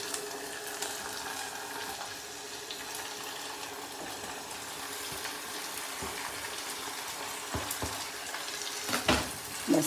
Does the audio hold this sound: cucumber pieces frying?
yes